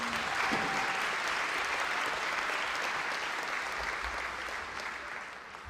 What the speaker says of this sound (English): Let's give a round of applause for those magical outfits.